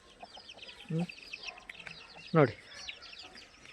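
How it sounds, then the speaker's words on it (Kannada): Native country chickens on a small farm in Karnataka give two short, close clucks amid quiet background ambience, with someone speaking briefly. "ಇದು ಒರಿಜಿನಲ್ ನಾಟಿ ಕೋಳಿ"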